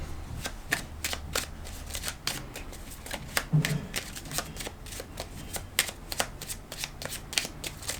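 Tarot cards shuffled steadily by hand, a rapid rhythmic riffle of papery flicks and slaps over a low background hum, close and fairly quiet.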